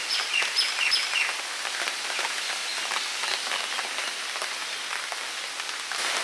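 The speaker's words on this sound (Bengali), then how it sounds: "ভালোই বৃষ্টি শুরু হয়ে যাবে" Steady rain pattering on surfaces during Cyclone Remal, a dense close hiss with a few bird calls over it early on.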